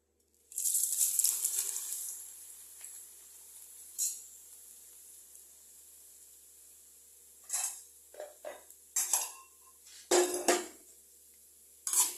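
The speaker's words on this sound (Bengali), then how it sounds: "চিড়াটা আমি ভাজা করে নেব।" Flattened rice dry-frying in a pan: a bright sizzling rustle at the start, then near silence broken by several loud metallic scrapes and clinks of a spatula stirring against the pan.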